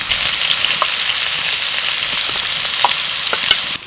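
Chopped onion sizzles loudly in hot oil with bay leaves, cardamom, cinnamon, cloves and whole cumin, a bright, steady crackle with occasional stirring taps that cuts off abruptly at the end.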